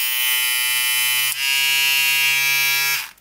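KEMEI portable electric shaver running close up, a loud steady high-pitched buzzing drone with a brief dip midway, then cutting off abruptly at the end.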